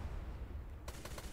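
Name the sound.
ship cannon fire in video game Blazing Sails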